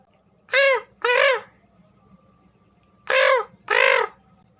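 Two pairs of harsh crow caws ring out close by, separated by a quiet pause, over a faint low hum.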